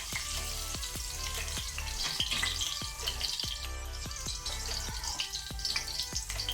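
Chopped green chillies fry in oil in a pan over a low flame, a close, continuous crackle with a regular series of sharp popping spits, and nobody talks.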